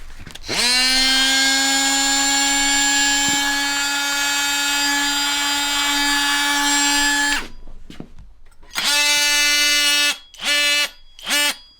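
Cordless 12V oscillating multi-tool, a DeWalt or Milwaukee M12 Fuel, running at full speed with a loud, steady high-pitched whine that cuts off, then returns in several short bursts.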